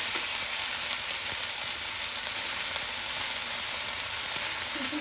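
Cut, washed vegetables fry in a pan with a loud, even sizzle that runs steadily throughout, with only faint occasional crackles.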